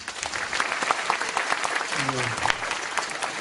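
Enthusiastic applause from an audience at a special lecture fills the whole moment, dense and steady clapping with a voice briefly audible underneath.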